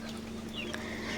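Small desi chickens kept on a farm on a rainy day, soft clucking calls at a distance over a low steady hum, with no speech.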